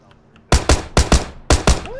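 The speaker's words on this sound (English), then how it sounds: "I got bullets whizzing past my goddamn head" Gunfire in the video game PUBG: two paired bursts of loud, close shots with sharp cracks, separated by short gaps, with faint background noise before the first volley.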